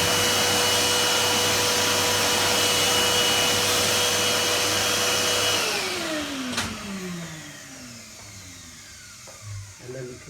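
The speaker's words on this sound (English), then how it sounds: "vacuum up the swarf" Vacuum cleaner sucking up metal swarf left from drilling a mud shield kit onto a tub, a loud steady motor whine and rushing air that winds down after about six seconds, leaving quieter clicks and handling noises.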